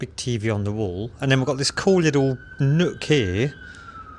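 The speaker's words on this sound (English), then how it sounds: "So you can hear the sirens in the background." A siren in Manchester city centre wails faintly in the distance, heard from inside a hotel room, a long steady tone running beneath close, continuous indoor talking.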